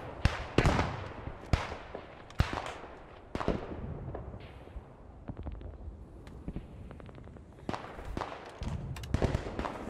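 Bursts of machine gun fire in the WWII shooter Post Scriptum, sharp cracks and rapid rattling volleys at varying distances, some close and loud, others fainter, with no talk over them.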